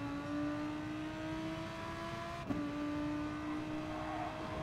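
Race car engine in GT Sport at Suzuka in a Gr.3 race, a steady droning whine with a rising pitch that briefly drops during a gear change midway before climbing again.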